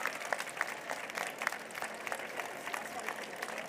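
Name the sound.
audience applauding children and teachers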